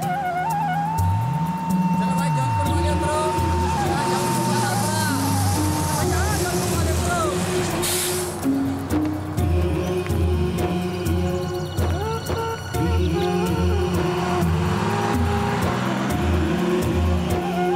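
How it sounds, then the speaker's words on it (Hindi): A car starts and drives away, its engine humming and revving steadily under background music and voices. "चलो गाड़ी निकालो।"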